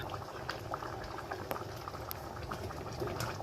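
Fermented fish (pla ra) broth with bamboo shoots and mackerel bubbles at a rolling boil in a pot, a continuous close burble of popping bubbles with occasional sharper pops.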